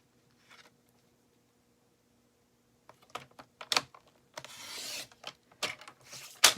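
Paper being cut into a strip: after a quiet start, a series of short crisp snips and rustling swishes come close up, with a longer rasping stretch near the end.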